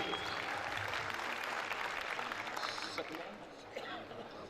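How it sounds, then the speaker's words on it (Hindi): At a school farewell party, a gathered crowd breaks into continuous applause that sounds fairly distant and soft. It is a steady wash of clapping that thins slightly toward the end. "आपकी अकीदत को एक मर्तबा तालियों से सजा दीजिए।"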